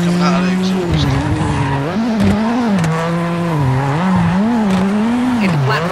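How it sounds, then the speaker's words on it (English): Rally car engine in the WRC 7 racing game, revs rising and falling continuously with tyre squeal and occasional sharp exhaust cracks, loud and up front. "I'm loving the pops and bangs coming out of the exhaust."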